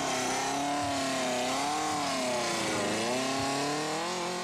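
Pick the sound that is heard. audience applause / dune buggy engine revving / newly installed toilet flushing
dune buggy engine revving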